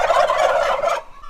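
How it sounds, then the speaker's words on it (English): Farm turkeys gobbling in a loud, close burst of rapid warbling calls that lasts about a second before cutting off abruptly. "I love my turkeys."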